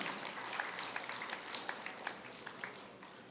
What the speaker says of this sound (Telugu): ఒకసారి మన మిత్రుల గట్టిగా క్లాప్స్ కొడదాం మిత్రులారా